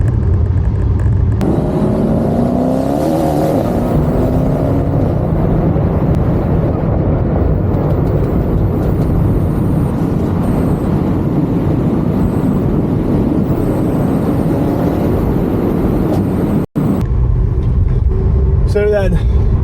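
A Mercedes E63 AMG with all four wheels spinning revs hard, a loud continuous engine roar with rising and falling pitch that fills the whole stretch, while someone talks over it.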